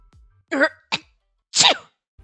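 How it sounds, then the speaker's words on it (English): Hira, a character in the video game Dairoku: Ayakashimori, sneezes: a few short, close, breathy bursts separated by brief pauses, with no talk over them. "Hira covered his face and sneezed."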